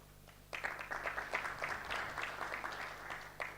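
An audience bursts into applause at a live-streamed event, dense continuous clapping starting abruptly after a brief quiet moment and holding steady to the end, with a low electrical hum beneath.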